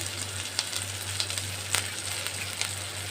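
Ginger and green chili paste fries in a pan with a steady, even sizzle, close by, broken now and then by small pops and crackles.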